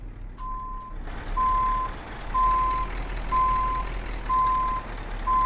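A truck reverses into a parking bay in Euro Truck Simulator 2, its reversing alarm sounding a steady train of evenly spaced beeps over a low idling engine rumble, with a few faint clicks.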